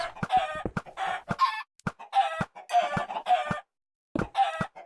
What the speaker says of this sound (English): And all the chickens.